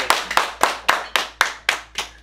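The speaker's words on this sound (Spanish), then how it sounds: "Aplauso." A single person claps hands eight times at a steady, even rhythm, each clap sharp and close, in a casual reaction setting with no talk over the claps.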